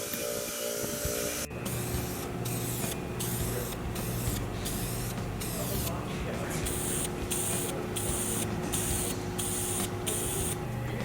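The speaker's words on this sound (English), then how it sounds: "Here we're cleaning up the head bolts with a wire wheel." A wire wheel scrubs engine head bolts clean in a garage: a loud, steady hissing abrasive whir broken by rhythmic bursts as each bolt is pressed against it, with a voice talking over it.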